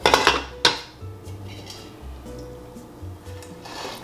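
Curds for homemade mozzarella are moved from a colander into a fine mesh strainer, giving clattering metal knocks and scrapes, a couple of sharper clanks, and soft wet shuffling in between, close by with no talking.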